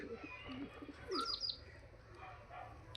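A Malbai pigeon coos softly nearby, joined by a few brief chirps in the middle, against a faint, quiet background.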